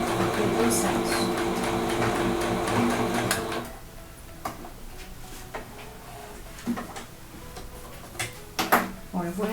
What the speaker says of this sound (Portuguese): abaixo a agulha, dou uns pontinhos pra frente, retrocesso e venho costurando